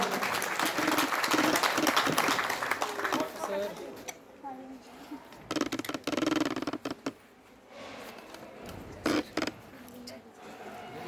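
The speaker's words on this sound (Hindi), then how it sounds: "जोरदार तालियों से इनका स्वागत करें।" Applause welcoming a sociology professor to the stage at a college function, strongest at the start, then breaking into patchy bursts with speech between them.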